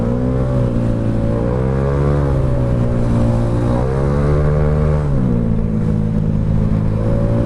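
Honda Vario 25 scooter with a spek 59 tuned engine riding along the Pantura road, its steady engine drone rising and falling through repeated throttle changes, with constant wind and road noise and no talking.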